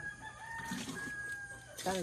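Backyard chickens cluck close by while a rooster crows, its call ringing out clearly near the end above a steady low background hum.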